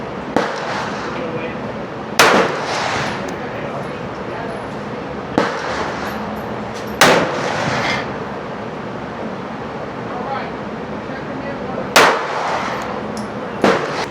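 Pistol shots from a Taurus handgun at an outdoor range, about five sharp cracks spread unevenly over the stretch, fairly close and loud, over steady outdoor background noise.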